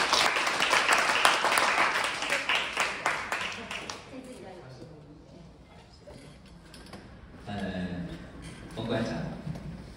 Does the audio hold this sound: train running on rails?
no